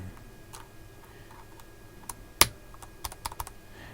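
Irregular, sparse clicks sound from a computer keyboard just put back together after a key repair, with one sharp louder clack in the middle and a quick cluster of keystrokes near the end. No one speaks.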